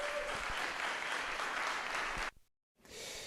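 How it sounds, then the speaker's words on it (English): An audience gives a round of applause at a talk on code signature bypass and kernel vulnerabilities: steady, dense clapping and cheering that stops abruptly, with a brief renewed burst after a short gap. "A round of applause for Linus."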